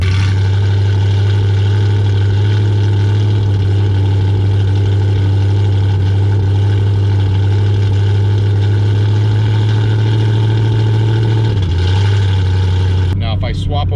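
A Chevrolet Camaro engine and exhaust at about 1,500 RPM give a loud, steady, deep drone while cruising, with a brief dip in pitch near the end and a short scuffle at the close.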